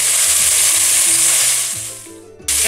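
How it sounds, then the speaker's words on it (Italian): Braciole meat rolls brown in a hot pan with a loud, dense, continuous sizzle that thins out briefly near the end and then surges back up. "le lasciamo rosolare 3-4 minuti. Giriamole dall'altro lato."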